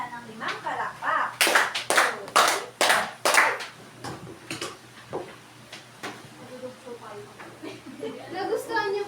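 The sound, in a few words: children clapping five claps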